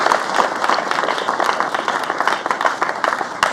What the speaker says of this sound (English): I think a round of applause for all those students